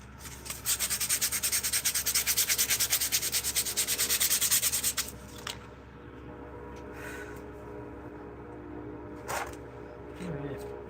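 A pear wood spoon being sanded by hand, giving a rapid, steady rasping scratch that runs loud and close for about five seconds, then stops, leaving faint handling noises and quiet room sounds.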